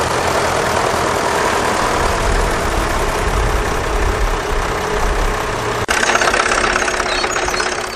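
A Caterpillar D7 crawler tractor's diesel engine works steadily under load while ploughing, a loud continuous low rumble with a brief dip near the end before it resumes.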